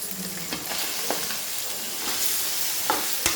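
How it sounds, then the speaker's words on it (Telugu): Chicken being stirred in a hot pan with ginger paste and turmeric, a continuous close sizzle broken by a few sharp scraping strokes of the spatula, with no voices. "చికెన్ కూడా బాగా మిక్స్ చేయాలి. అల్లం పేస్ట్, పసుపు చికెన్కి పట్టేలాగా."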